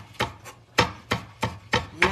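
Vegetables, including taro stalks, being chopped into small pieces on a cutting board, a steady series of crisp, close knife strikes about every third of a second.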